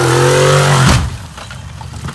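Video game car engine roaring at full throttle, a loud sustained drone that cuts off abruptly just under a second in, leaving low background rumble.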